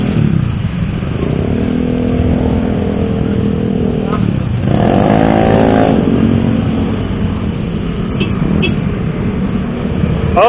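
Around twenty motorcycles idle and rev together at the start of a community night ride in Bandung, a loud dense engine drone with a sharp rising rev swell midway and faint chatter mixed in.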